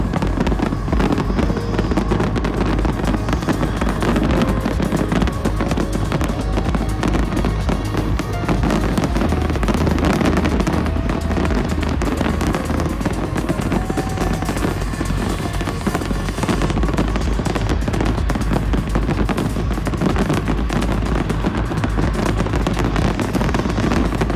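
Fireworks burst continuously at a rave festival, a dense, loud barrage of crackling pops and booms that runs throughout with no talk over it.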